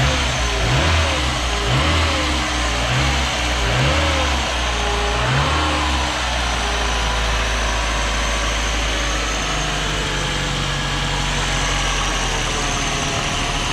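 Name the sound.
Citroën ZX Volcane car engine revving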